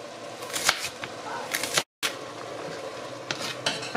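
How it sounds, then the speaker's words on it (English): A kitchen knife cuts an onion into cubes for a Polish-style red cabbage salad, giving a string of short, close crisp chops and board taps with a brief pause midway. "Our mom is cutting the onion."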